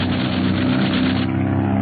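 Propeller planes locked in an aerial dogfight, heard as a continuous, loud, droning engine roar with a slight pulsing waver, muffled and narrow like an old radio broadcast.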